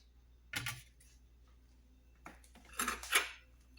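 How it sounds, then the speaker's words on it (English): A pot of boiled fish is set down on a hard surface, with spoons and utensils nearby. A few short, close clinks and knocks of metal come in two brief bursts against near silence. "So I will place the pot here."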